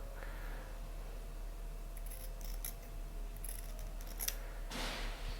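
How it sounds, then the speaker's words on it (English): Scissors trim off excess bias fabric on a medieval-style dress seam, giving several soft, brief snips scattered through the clip against a quiet room hum. "I'm just trimming off that excess bias fabric"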